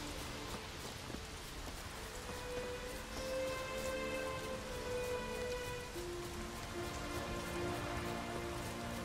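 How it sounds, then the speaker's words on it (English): Steady rain pours down in Skellige in The Witcher 3, a dense even hiss on surfaces that carries on throughout, with faint tonal game ambience underneath and no talking. "Raining at 8 AM in Skellige."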